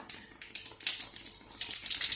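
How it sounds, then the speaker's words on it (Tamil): Mustard seeds crackle and pop sharply in hot oil, a rapid irregular spattering that keeps going throughout. "கடுகு போட்டு பொரிஞ்சதும்"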